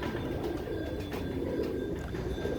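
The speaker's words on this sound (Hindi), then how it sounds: "ये नईम भट्टी, उस्ताद नईम भट्टी साहब के घर के कबूतर हैं माशाल्लाह से" Pigeons at Ustad Naeem Bhatti's house, red-eyed birds of fancy breeds, coo softly in repeated low throaty calls against a steady background murmur, no voices.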